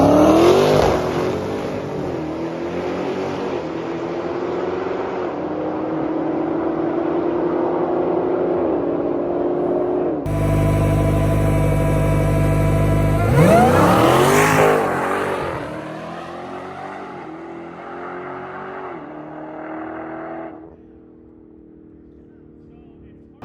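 Dodge Demon 170 cars accelerating hard at a drag strip, engines roaring loud and close with rising revs, a sharp burst of full-throttle launch midway, then fading into the distance as they pull away.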